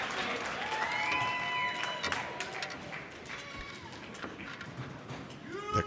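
A Mosconi Cup pool crowd cheering and clapping for Shane van Boening, a lively mix of scattered claps, shouts and whistles at moderate distance, with a commentator talking over it.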